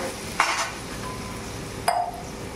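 Water is poured into a hot pan of frying potatoes and meat, bursting into two short, sharp sizzles over a low, steady frying hiss.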